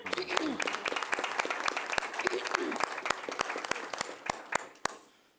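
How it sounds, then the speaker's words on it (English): A committee applauds Commissioner Moody at a meeting, a small group clapping with sharp, distinct claps that thin out and stop near the end, while people murmur and talk underneath. "I think we should clap."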